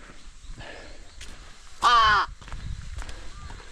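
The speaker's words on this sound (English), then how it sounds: "Crows are big, they scare me." A single crow caws loudly once, close by, over quiet outdoor background noise on a mountain trail in Okutama, Japan.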